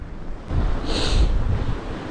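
Strong wind roars over open sea aboard a fishing boat during a storm on a mackerel jigging trip, a steady broadband rush that swells after the first half second and holds loud to the end.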